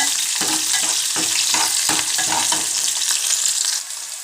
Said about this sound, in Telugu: ఉల్లిపాయలు ఫ్రై అయ్యే వరకు బాగా ఫ్రై చేసుకున్నాం